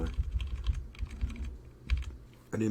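Rapid typing on a computer keyboard, a quick irregular run of close, moderately loud key clicks with a short pause, followed by a heavier keystroke cluster at the end.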